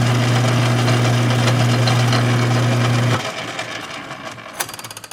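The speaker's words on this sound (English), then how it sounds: "There's only a baby lathe." A small lathe machining a part hums with a steady motor drone, then winds down and goes quiet, leaving faint clicks and a brief clink.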